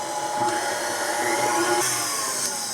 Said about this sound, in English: We're gonna let this continue whipping.